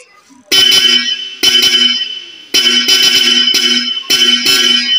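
A Bosch Europa horn fitted to a Toyota FJ Cruiser honked repeatedly in short and longer blasts, loud and close, with brief gaps between each toot.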